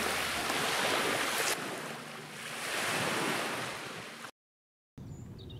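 Surf rolls and washes steadily onto a deserted beach on Corfu, a loud continuous roar with wind buffeting the microphone, then a short dropout before the waves resume.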